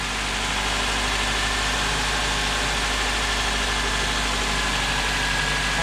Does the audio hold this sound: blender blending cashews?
no